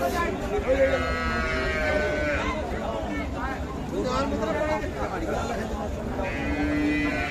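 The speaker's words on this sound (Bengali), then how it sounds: "এখানে একটা ছোট্ট গাভী দিচ্ছি" Cattle at a rural livestock market in Bangladesh where cows with calves are sold, with lowing moos rising through a steady crowd hubbub; people talk throughout.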